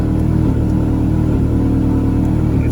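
A Mazdaspeed 3 engine while driving on a test drive, a loud steady mid-range drone with a low rumble, held at an even level throughout with no voices.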